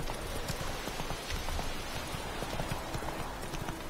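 Horse hooves clip-clop in a quick, steady rhythm throughout, close and distinct, as a horse is ridden in The Witcher 3.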